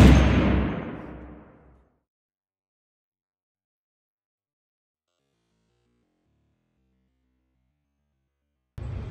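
A single loud rifle gunshot close by at a shooting range, a sharp blast that rings out and decays over a couple of seconds before silence, then the start of another loud burst at the very end.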